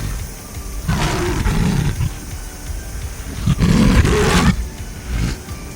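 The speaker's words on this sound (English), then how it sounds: "He lifted his head toward the stormy sky, opened his mouth, and prepared to unleash the roar hidden inside him all along." A lion roaring in a story sound effect set on a stormy savannah, two loud, long, deep roars with a quieter rumble between and after them, no voices.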